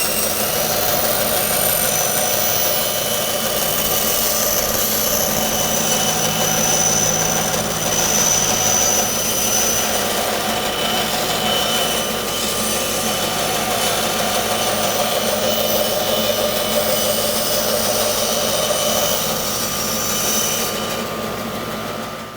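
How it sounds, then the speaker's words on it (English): A bandsaw runs steadily while cutting a wooden disc out of a cheap board for a bowl blank, giving a loud, continuous machine whine and hum that holds for the full length and stops only at the very end. "we'll turn on the bandsaw and we'll cut out our disc"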